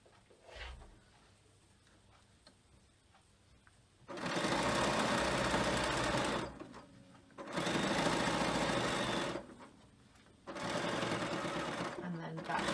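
A sewing machine runs in three sustained bursts of stitching through frame bag fabric, loud and close, with short quiet pauses between them and a brief softer moment before the first run.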